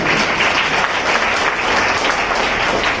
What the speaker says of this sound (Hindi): इसलिए एक बार और ताली बजाएं